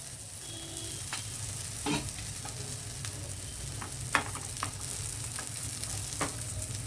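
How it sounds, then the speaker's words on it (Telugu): Spices sizzle in oil as a tempering for dal with drumsticks, a soft, steady crackle close by with occasional sharp taps of stirring. "చూసుకోండి తాలింపు వేగాలి కానీ మాడిపోకూడదు"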